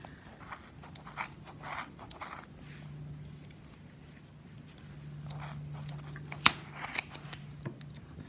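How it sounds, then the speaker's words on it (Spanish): Scissors snip through knitting yarn while a pompom is trimmed bit by bit, giving soft, close crunching cuts in irregular bursts, with a few sharper clicks of the blades near the end. "Volvemos a cortar y así nos vamos a ir hasta tener todo nuestro pompón cortado."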